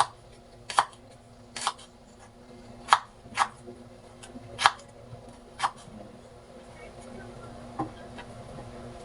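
A knife chops ginger on a cutting board in about eight separate, crisp taps at an uneven pace. They are close and fairly quiet over a low background hum.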